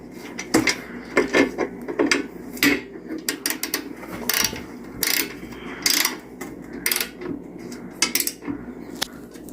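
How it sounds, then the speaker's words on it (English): During a Yamaha YZ250 engine rebuild, an Allen key turns a bolt tight, giving a run of irregular metallic clicks and ratcheting taps, fairly close and clear against a quiet workshop background. "I'm going to go ahead with my Allen key, tighten it up."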